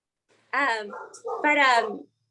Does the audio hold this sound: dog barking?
yes